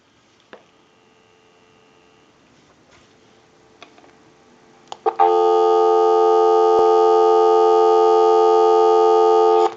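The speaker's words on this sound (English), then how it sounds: "We'll go ahead and give you some dial tone." A few faint clicks and ticks, then a loud steady multi-tone dial tone from a TA954 military field telephone switches on and holds continuously, heard up close.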